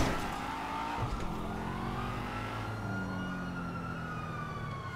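A wailing police siren rises and falls over steady engine noise in Grand Theft Auto V, sounding electronic and game-like, continuous throughout.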